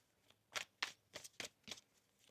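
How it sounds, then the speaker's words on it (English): A deck of tarot cards being shuffled by hand, giving a quick series of crisp riffling bursts, about six short flurries close up and fairly quiet, with no talk. "One more shuffle here."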